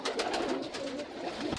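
Pakistani pigeons coo softly and continuously up close, their low throaty calls rolling over one another in a short burst.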